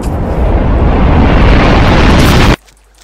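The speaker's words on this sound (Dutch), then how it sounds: "Deze creeper moet ook nog even exploderen." A loud, sustained roaring blast from a Minecraft creeper explosion fills the scene for about two and a half seconds, then cuts off abruptly into near silence.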